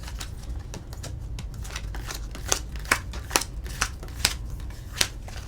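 A deck of cards is shuffled near the microphone, soft riffling building into a run of sharp, evenly spaced snaps and flutters toward the end, fairly quiet with no talk.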